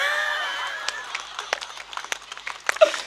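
An audience at a Hindi comedy show claps in scattered, uneven bursts: a handful of sharp, separate claps of varying loudness follow a fading tail of sustained sound, fairly close and not joining into full applause.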